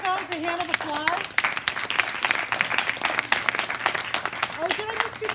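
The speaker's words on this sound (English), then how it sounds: "So let's give ourselves a hand of applause." Audience applause at a youth media summit, steady clapping filling the room for the whole stretch, with children's and adults' voices talking and calling out over it.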